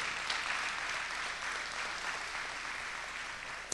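Faint, distant applause from a church congregation, a soft continuous patter of clapping that holds steady throughout.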